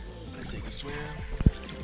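Water in a swimming pool sloshes, trickles and drips around a GoPro Hero 7, ending in a short burst of splashing close by.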